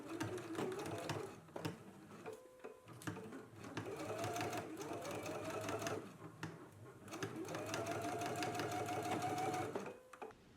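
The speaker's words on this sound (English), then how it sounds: "let's go ahead and stitch the ends" A sewing machine stitches the ends of a sleeve cuff, running in steady whirring bursts with a short pause between runs, loud and close with no voices.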